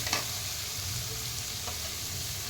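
Onions frying in oil in a pan, a dense, even sizzle with a low rumbling hum beneath and a faint clink near the start.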